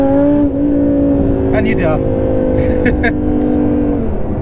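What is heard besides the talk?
Audi R8 V10 Plus accelerating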